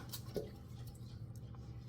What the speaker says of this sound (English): There they fall all in the water.